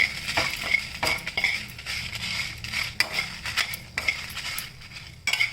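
A spoon stirs a green chili and a spoonful of rice as they dry-roast in a pan. Close, fairly quiet scrapes and metallic clinks come in irregular bursts, with no voices.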